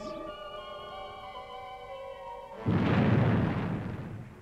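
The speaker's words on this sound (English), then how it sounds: "Fire main retros. Okay, Steve. Firing retros." Spacecraft retro rockets ignite in a Fireball XL5 sound effect: a steady tonal hum gives way to a sudden loud, rushing roar of rocket thrust that holds to the end.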